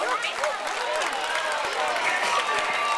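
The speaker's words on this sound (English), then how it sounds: "Please keep a round of applause going as we welcome out Mitchie" Steady crowd applause at a zoo sea lion show, mixed with cheering and murmuring from the audience while a presenter talks over it.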